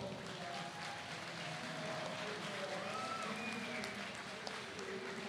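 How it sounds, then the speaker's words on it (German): A crowd at gamescom 2014 applauds the first-place winner of the Borderlands cosplay awards, steady clapping mixed with crowd murmur and a voice or two underneath, moderately distant. "Bitte mal einen riesengroßen Applaus."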